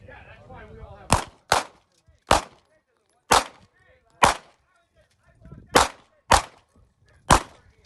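Eight sharp pistol shots crack out one at a time at an outdoor shooting range during a marksmanship drill, loud and close, spaced unevenly about half a second to a second apart, with faint background murmur before the first shot.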